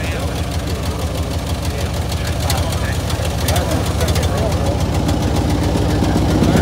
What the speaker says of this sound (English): Guys, the motor runs, but you couldn't get it to move.